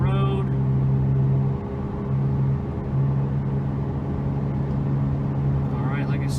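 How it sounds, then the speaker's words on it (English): A steady low rumble and hum of tires rolling on pavement inside a moving 2007 VW Rabbit at about 50 mph, with a faint engine drone throughout. "You can hear some noise, that's just road tire noise from the road."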